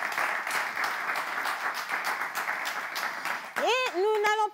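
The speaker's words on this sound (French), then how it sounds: "on va applaudir tous ceux qui sont dans le studio." Loud applause from a studio audience, steady for several seconds, then a voice speaking briefly over the fading clapping.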